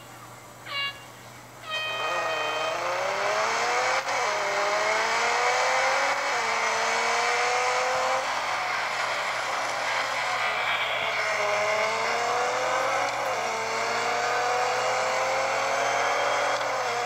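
A 2015 Nissan GT-R LM Nismo race car at Mount Panorama in a racing video game revs hard and steadily, its engine tone climbing repeatedly through upshifts, loud and continuous with a low hum underneath.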